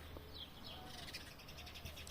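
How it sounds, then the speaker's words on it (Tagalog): Birds chirp and sing softly in a flower garden: scattered high tweets over a steady low background hum, faint and somewhat distant throughout. "Pakinggan natin yung mga ibon na bang kumakanta"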